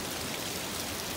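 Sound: small waterfall flowing

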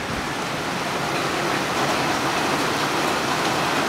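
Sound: heavy rain falling outside

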